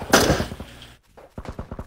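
Single-fire gunshots in the video game PUBG: one sharp report up front, then a brief lull and a quick run of several lighter shots, heard alone without talk.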